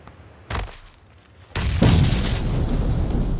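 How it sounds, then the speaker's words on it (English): A grenade detonates in the battle-royale game PUBG with a heavy, booming blast that follows a sharper earlier crack and leaves a long rumbling roar, loud and close. "I just threw a grenade"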